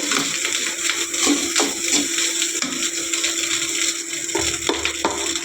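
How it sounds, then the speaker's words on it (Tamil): Ponni rice fried rice sizzling steadily in a pan, a continuous close hiss and crackle with occasional scraping or stirring knocks. "நல்லா ஃப்ரை ஆகுது."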